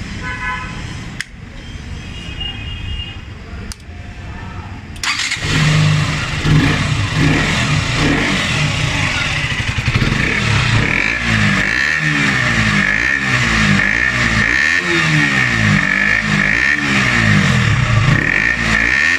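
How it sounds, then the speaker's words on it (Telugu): A KTM RC 125 single-channel ABS motorcycle idles, then its exhaust barks into loud, repeated throttle blips and sustained revving, close and continuous, with no talking. "ఇక ఈ వీడియో ముగించే ముందు ఒకసారి ఈ బైక్ ఎగ్జాస్ట్ నోట్ కూడా విందాం"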